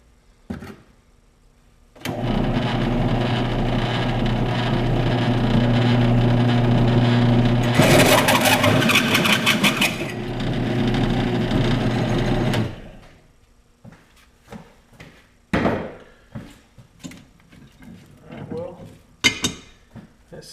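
A hole saw cuts through a metal tube for a trail buggy front clip, a loud steady whirring grind lasting about ten seconds with a harsher rasping stretch in the middle, then scattered clanks and knocks as it stops.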